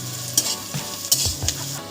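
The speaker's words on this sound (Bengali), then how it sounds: "পেঁয়াজটা একটু ভাজা ভাজা হয়ে গেছে, এবার আমি গ্রেট করে নেওয়া রসুনটা দিয়ে দিচ্ছি।" Grated garlic sizzles as it hits onions frying in oil, with a close, steady hiss and a few quick stirring scrapes in the pan.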